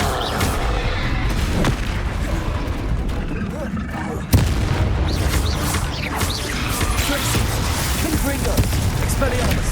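A Confringo blasting spell goes off with a loud explosive boom in Hogwarts Legacy, set in a noisy duel with crackling effects and voices around it.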